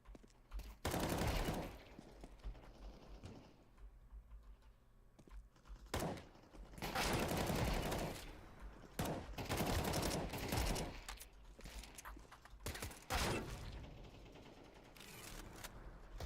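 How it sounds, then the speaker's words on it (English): Auto shotgun in Counter-Strike fires in rapid bursts of loud, punchy shots, with a few separate volleys spread across the clip and a thud or mechanism sound between them. "That was an auto shotgun."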